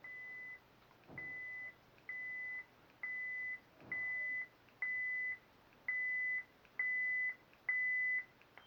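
Short electronic beeps from a lightsaber's ProffieOS volume menu, nine evenly spaced mid-pitched tones about a second apart, clean and fairly quiet, with a couple of soft button clicks underneath.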